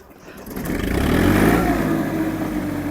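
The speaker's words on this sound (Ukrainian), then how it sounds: "Завели тракторець, збавляємо оберти." An Iseki TU-217 Japanese mini tractor's engine catches and revs up, a close, loud mechanical roar that builds over the first second and settles into a steady running drone.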